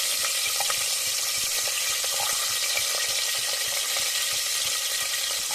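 Onions fry in a pan for tomato chutney, with a steady, even sizzle and crackle that runs unbroken the whole time, close and moderately loud.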